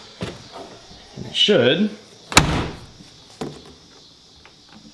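Body panel on a Nissan 240sx being shut and latching with OEM parts, giving one sharp close-up slam midway between bursts of someone talking.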